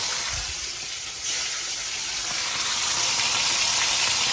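Chicken frying in hot oil while a family cooks together, giving a steady, close, crackling sizzle with a rising hiss throughout and no speech.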